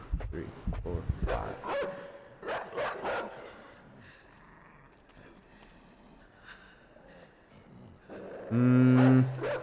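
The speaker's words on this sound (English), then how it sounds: "I don't like that dog." Dog barking in a horror video game, a short loud burst near the end after stretches of someone talking and counting aloud over quiet game ambience.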